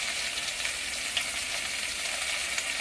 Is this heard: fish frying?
yes